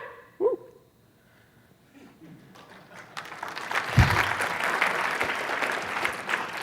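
Audience applause breaks out at a ClojureScript programming talk, starting as scattered claps and swelling into steady, fairly loud clapping from a crowd, with a brief vocal whoop near the start.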